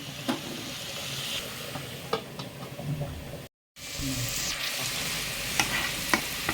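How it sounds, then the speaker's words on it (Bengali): Vegetable curry stirred in a frying pan, a continuous close sizzle and steamy hiss with scraping strokes and occasional light knocks, cut by a brief dropout midway. "আমি এখন সবজি তরকারিটাকে লাড়িয়ে দিয়ে এখন নামিয়ে ফেলবো"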